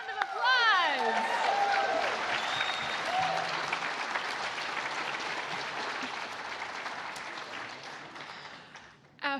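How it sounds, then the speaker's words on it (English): Steady audience applause at the West Virginia Music Hall of Fame induction ceremony, a dense, even wash of clapping from a large crowd that fades slightly toward the end, with a brief tone or voice heard near the start. "Let's give them one more round of applause."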